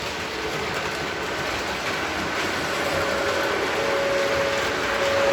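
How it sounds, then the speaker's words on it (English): A continuous mechanical rumble and whir of a small model cable car running steadily, with a faint thin whine rising near the end. "here comes the cable car."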